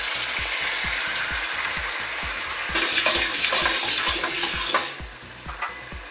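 Heavily salted pasta cooking liquid poured into a pan of sizzling butter, sage and gnocchi, with rhythmic stirring taps and a louder burst of bubbling hiss midway that then settles.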